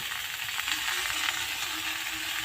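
Vegetables fry in a pan with turmeric and salt, giving a dense, even, continuous sizzle that stays loud and close for the whole stretch, with faint stirring scrapes mixed into the hiss.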